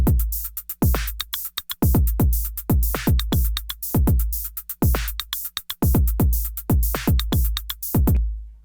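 A punchy electronic drum beat from a PO-24 Office pocket synthesizer loops steadily, with booming kicks, crisp snares and ticking hi-hats in a repeating pattern, close and loud with no talking.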